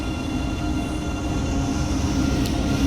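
Passenger train on a Dresden local line in Train Sim World 2 rolls steadily past at close range, a continuous low rumble with faint rail tones and a brief squeal near the end, heard alone.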